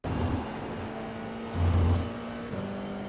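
An FIA F4 race car engine in iRacing at Laguna Seca drones loudly and steadily, then swells as the throttle goes back to full on corner exit, a constant close engine tone with no talk.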